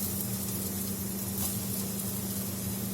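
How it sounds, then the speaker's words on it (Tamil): Onions and potatoes sautéing in a pan, a steady close sizzle and hiss that holds evenly throughout with no talk. "லைட்டாக வதக்குனா போதும்"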